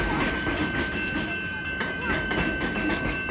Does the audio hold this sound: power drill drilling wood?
no